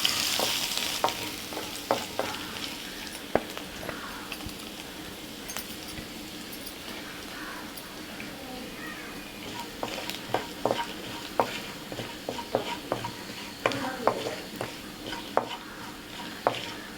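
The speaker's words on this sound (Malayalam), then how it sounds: "ഇതിലേക്ക് ഒരു പച്ചമുളക്, 4-5 ചെറിയ അല്ലി വെളുത്തുള്ളി, ഒരു ചെറിയ കഷ്ണം ഇഞ്ചി, 2 സ്പൂൺ ഗരം മസാലയും ചേർത്ത് മൂപ്പിക്കാം." Green chilli, garlic, ginger and garam masala sizzle in oil in a pan for tapioca curry, with a soft continuous fry broken by clinks and scrapes of a spoon stirring, close and quiet with no voices.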